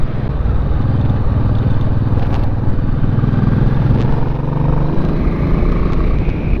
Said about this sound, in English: And this bike is so loud.